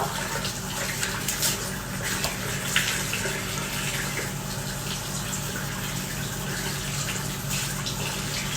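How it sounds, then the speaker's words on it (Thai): Plain water runs and splashes continuously for several seconds during face rinsing, a close, steady broadband gush like a running tap with small splashes throughout. "เดี๋ยวเรามาล้างน้ำกันนะคะ ล้างน้ำเปล่า"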